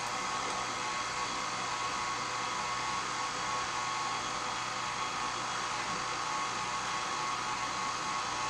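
An electric mixer creams sugar and Crisco into a pie-crust texture, giving a steady, unbroken whirring hum at even loudness throughout, with no voices.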